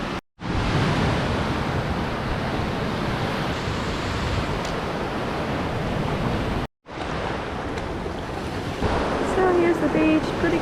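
Ocean surf at Kuta beach in Bali roars continuously and loudly, a dense wash of waves mixed with heavy wind buffeting the microphone, broken by two brief cuts.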